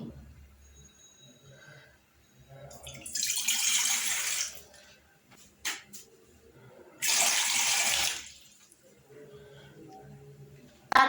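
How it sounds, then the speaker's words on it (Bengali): About two cups of water gush in two bursts, a couple of seconds each, splashing into a cooking pot on a stove nearby, with quiet pauses between them. "চুলে একটি হাঁড়ি বসিয়ে দিয়ে দিচ্ছি দু কাপ পরিমাণ পানি"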